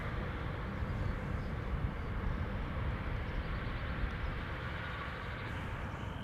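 An Air Arabia Airbus A320 arrives at Schiphol Airport, its distant jet engines producing a steady broadband roar that holds at an even level throughout, with no voices.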